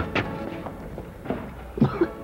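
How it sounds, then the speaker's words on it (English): A few short, quiet coughs at close range, scattered unevenly, with a couple of sharper bursts near the end. "He tried to cough."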